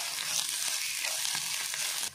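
Onion frying with ginger-garlic paste in a pan for an egg pepper dry, giving a dense, continuous close sizzle with faint stirring movements throughout.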